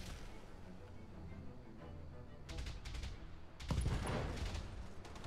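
Turrets fire in the BattleTech video game, a faint rattling burst of shots followed by a louder crashing volley over quiet background battle noise.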